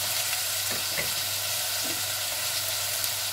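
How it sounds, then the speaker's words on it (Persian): Meat sautéing for a Persian celery stew (khoresht karafs) in a pan, a steady dense sizzle with faint stirring scrapes near the start, continuous and close with no talking. "گوشتمون رو هفت دقیقه تفت میدیم"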